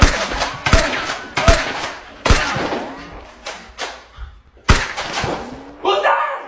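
Nerf guns fire repeatedly in a backyard-style Nerf war, a series of sharp, loud close pops and snaps in an irregular rhythm, with voices shouting between shots.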